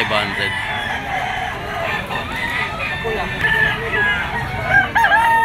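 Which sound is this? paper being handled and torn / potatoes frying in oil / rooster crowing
rooster crowing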